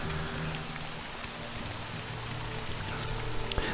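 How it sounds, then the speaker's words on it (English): Steady rain falls in the Morrowind video game, a dense, even hiss of drops pattering on surfaces that holds at constant loudness, heard alone. "we don't really like the rain, but kind of have to deal with it until we're back"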